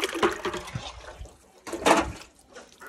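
Water is tipped out of a bucket into a large cooking pot during household chores, giving two loud close splashing surges separated by a brief quieter gap.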